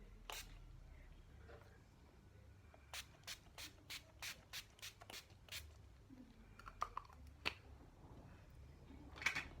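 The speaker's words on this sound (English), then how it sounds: "To set my face, I'm using the Wet n Wild Natural Finish Setting Spray." A quick series of short bursts of Wet n Wild Natural Finish Setting Spray, about ten evenly spaced pumps, close and fairly quiet, followed by a few scattered handling sounds.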